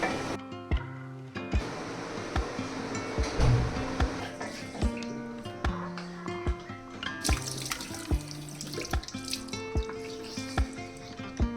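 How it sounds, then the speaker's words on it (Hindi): Tap water runs into a sink while hands are washed, a steady splashing stream with irregular drips, clicks and knocks at close range, fairly quiet and with no voices. "फिर मैंने इसको फिल करा और उसके बाद फिर अपने हैंड वॉश करे"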